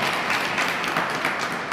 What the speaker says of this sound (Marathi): बाबांसाठी एकदा आपण सर्वांनी टाळ्या वाजून स्वागत करावं